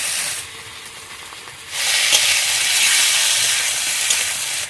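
Ginger paste and potatoes sizzle loudly in a hot wok over a village cooking fire, a steady frying hiss that swells and stays strong after a quieter opening, with no talking.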